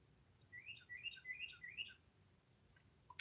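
A cardinal and a titmouse chirp outdoors, a quick series of four clear bright whistled notes at moderate distance, followed by a sharp faint call, with no voices.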